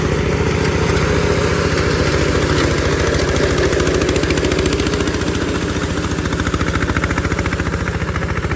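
A 15.5-horsepower diesel 4x4 ride-on lawn mower engine runs loud and close, a constant rapid chugging throb with no breaks.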